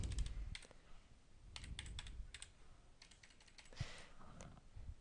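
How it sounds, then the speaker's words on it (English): Keys clatter on a computer keyboard as a password is typed, with quick bursts of clicks separated by short pauses, close and fairly quiet throughout. "Type a password."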